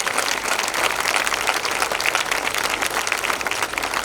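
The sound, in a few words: audience applause at poetry event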